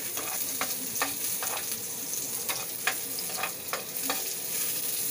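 Ampalaya (bitter melon) with egg frying in a home kitchen pan, a steady sizzle broken by repeated stirring scrapes, close and moderately loud with no talk.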